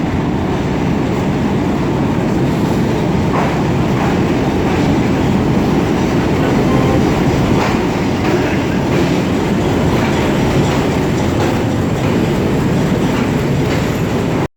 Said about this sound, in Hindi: मेरी ट्रेन यानी कि 102 डाउन सबक खरम एक्सप्रेस PHA 28306 के साथ प्लेटफॉर्म पर आ रही है।